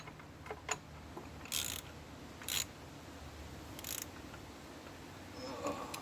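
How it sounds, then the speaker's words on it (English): A ratcheting 10 mm socket on a wobble extension tightens a bolt during a timing belt job on a 1.8T Audi/VW engine, giving a few quiet, separate clicks with pauses between them and a faint rattle near the end. "the best way to tighten this one is a 10 mil on a wobble"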